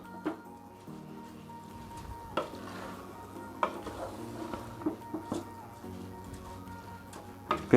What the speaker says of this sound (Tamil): மெதுவாகவே கிண்டுங்க.